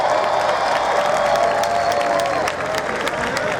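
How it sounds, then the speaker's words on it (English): Loud, sustained crowd applause with cheers and whoops fills a nurses' association political rally in the South Bronx, New York, dense and continuous, easing slightly toward the end. "So give yourself a round of applause for all the work."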